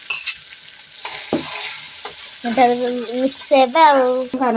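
Wilted green tomatoes are tipped into a hot pan with ginger and green chili for a green tomato pickle, giving a soft crackling sizzle and stirring scrapes while a voice talks over the frying.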